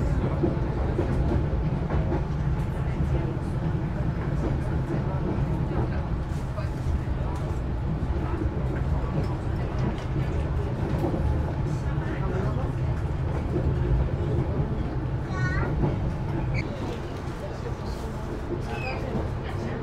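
KA Argo Wilis climbs a mountain railway in West Java, producing a steady low rumble and rattle heard from inside the train, with a person talking over it throughout.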